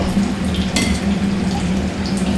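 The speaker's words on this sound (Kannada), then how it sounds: "ಇದಕ್ಕೆ ನೀರನ್ನು ಹಾಕೋಣ." Water poured into rice for a pulao makes a steady splashing, gurgling stream at close range, continuous throughout with a brief clatter partway through.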